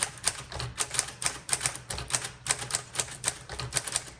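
Rapid, uneven keystrokes clack on a 1946 Sterling Speedline manual typewriter, each strike a crisp, close metallic snap, about four per second with short gaps and no voices.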